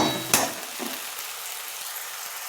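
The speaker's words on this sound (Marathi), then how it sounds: "त्यामध्ये आलं लसूण आणि टोमॅटो प्युरी टाकून घेतलेली आहे आणि ती सुद्धा तेल सुटोस्तो चांगली परतून घ्यायची" Ginger, garlic and tomato puree sizzle in hot oil in a pan, a soft, steady frying hiss with a brief stir or clatter near the start, then quieter bubbling crackle throughout.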